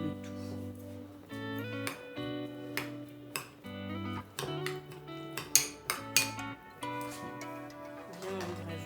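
Utensils clink and scrape against a dish while mayonnaise and other ingredients are mixed, with close, irregular metallic taps and ticks over a continuous background hum.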